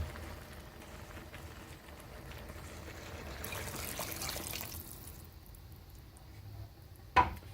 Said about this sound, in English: Now we need to add some water to cover it all.